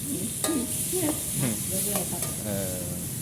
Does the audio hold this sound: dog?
no